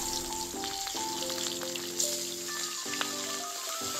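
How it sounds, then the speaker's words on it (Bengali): Pieces of desi rohu fish fry in hot oil, giving a steady, moderate sizzle and crackle over a quiet tonal hum in the background. "এবার আমি এই তেলের ভেতরে মাছগুলো ভেজে নেব"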